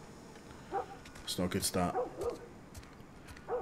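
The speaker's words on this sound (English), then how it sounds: "There's a dog barking." Dog barking in The Last of Us video game, a few short yelping barks scattered through the clip, mixed with someone talking over the gameplay.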